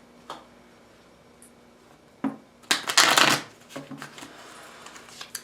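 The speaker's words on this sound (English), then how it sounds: "Do one more shuffle." Tarot cards being shuffled, a brief riffle early on, then a louder burst of rapid flicking followed by scattered light taps and slides.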